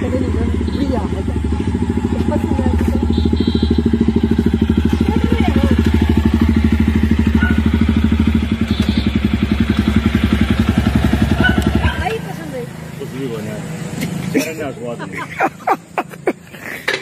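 A motorcycle engine idles and revs in a rapid, rattling putter, loud and close, as gears are shifted and it is put into neutral, then the engine drops away to scattered clicks and knocks.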